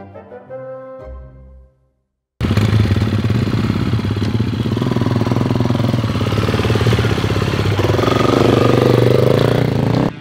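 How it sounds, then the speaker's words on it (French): Motocross motorcycle ridden on a sandy training circuit, its engine roaring loud and steady after a short pause, revving harder toward the end. "La moto va où elle veut, et je ne ressens pas le moindre atome d'adhérence."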